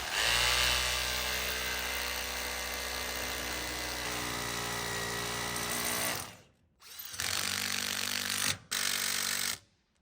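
Loud, continuous drilling into concrete grinds steadily, hitting rebar, then cuts out briefly and restarts in two shorter bursts.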